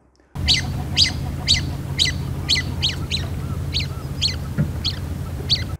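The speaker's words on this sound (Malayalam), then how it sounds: "പക്ഷിക്കൂട്ടമായി പറക്കുമ്പോൾ സദാ സിസിക് സിസിക് എന്നൊരു ചൂളം വിളി ആവർത്തിച്ചു കൊണ്ടിരിക്കും" A series of sharp, high whistling calls from lesser whistling ducks in flight repeats at a fairly regular pace, about a dozen notes over a low steady background rumble.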